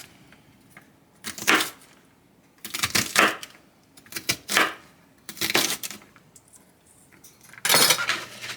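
A knife chops salad vegetables into bite-sized pieces on a board in five or six separate bursts of rapid clicking taps, each lasting under a second, with quiet gaps between.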